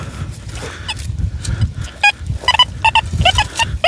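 A handheld metal detector gives short, broken tonal beeps in quick bursts while digging for finds outdoors where old roads once ran, the signal stuttering and uneven over low rustling background noise.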